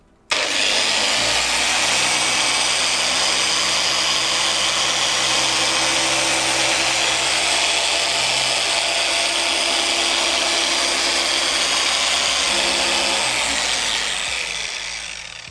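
Power sander at speed 3 wet-sanding the plastic lens of a car headlight, a steady loud whirring drone with gritty scraping that runs almost unbroken for the whole stretch, with a slight dip near the end.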